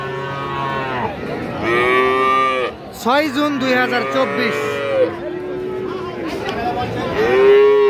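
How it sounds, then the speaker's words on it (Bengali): Friesian and crossbred heifer calves at a weekly cattle market in Ghoraghat, Dinajpur, let out a run of loud, close moos, one after another, over faint crowd chatter. "আমরা যে জায়গায় ফ্রিজিয়ান ও ক্রোজ জাতের বকনা বাছুর গরু কেনা বেচা হয়, আমরা কিন্তু সে জায়গায় রয়েছি।"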